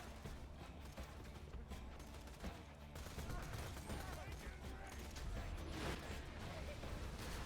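Video game gunfire from the Interfacer weapon, dense rapid bursts of shots with mechanical clatter, sustained and loud throughout.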